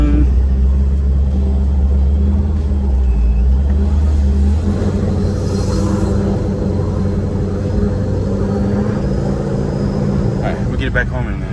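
A supercharged Pontiac G8 with a freshly rebuilt motor cruises with the windows down, its engine a steady loud rumble throughout with slight revving, heard from inside the car.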